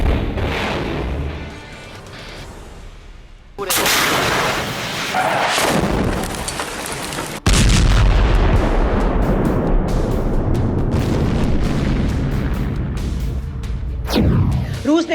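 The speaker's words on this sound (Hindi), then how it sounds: "समंदर में जंगी जहाज से रूसी मिसाइलें उड़ी" Russian missiles launched from a warship at sea, with a sudden loud roaring blast that swells into a sustained rushing roar, followed by a sharp crack and continued heavy rumble.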